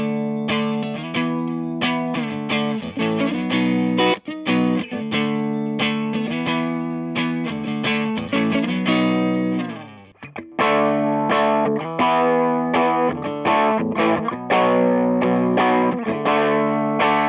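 Electric guitar through an amp with no pedals, a long stretch of strummed and picked chords that switches midway from a single-coil pickup to a P90 pickup, loud and continuous with a short dip near the changeover.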